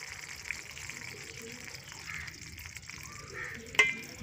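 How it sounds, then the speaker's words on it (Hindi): Okra frying in hot ghee gives a faint, steady sizzle and hiss, with a small sharp crackle near the end. "गरम करने के बाद इसमें भिंडी डालेंगे।"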